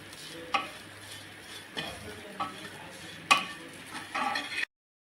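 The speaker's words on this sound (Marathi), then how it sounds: "आपण एखाद मिनिट आणखी हा असाच परतून घेणार आहोत" Bombil (Bombay duck) thecha seasoned with salt being stir-fried in a pan: a few distinct spatula scrapes and knocks over a quiet sizzle, close by, ending abruptly in silence.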